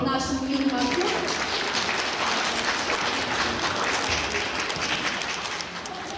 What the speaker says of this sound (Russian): Давайте похлопаем нашему юному актеру.